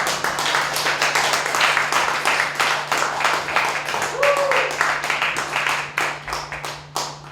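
Audience applause fills a standing comedy show at Insa Art Hall, with a dense, steady patter of many hands clapping close by and a voice speaking over it.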